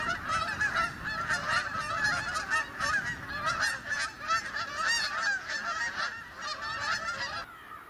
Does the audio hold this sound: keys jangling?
no